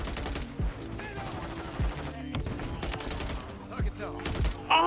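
Light machine gun fire in the Modern Warfare 3 video game, hardcore multiplayer: repeated loud bursts and single shots over a busy mix of game sounds, with talk.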